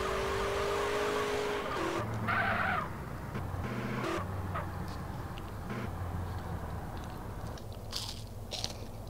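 Cars racing in the SA-MP video game, engines droning with a brief rising whine and tyre screeches cutting in and out over a constant gritty mechanical rumble.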